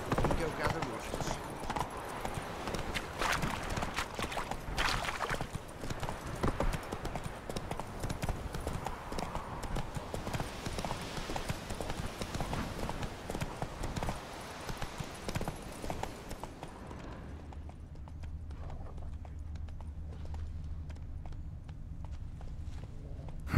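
Hooves of the horse Roach clip-clopping at a steady walking or trotting rhythm in The Witcher 3, carrying over a busy game soundscape with talk, then dropping to a quieter low hum near the end.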